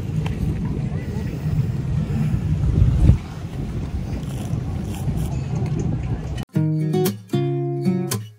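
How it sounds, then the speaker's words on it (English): A boat cruising on open water off Ibiza, with steady loud wind buffeting and engine and water rush running continuously, then cut abruptly to a brief burst of music near the end. "We're going back on the boat."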